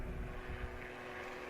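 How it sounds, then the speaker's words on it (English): A propeller airplane flies overhead, a steady low droning rumble that holds at an even level throughout. "I heard a plane, so I just kept talking."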